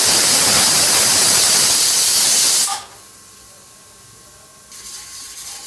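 A loud, continuous steam blast comes from a pressure cooker whistle during Maharashtrian tomato saar cooking. It lasts nearly three seconds, stops abruptly, and then only low background noise remains.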